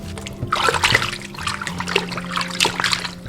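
Pork ribs from near the front leg rinsed under running water, with steady trickling and splashing close by, dribbles and sloshes rising and falling over about three seconds with no talk.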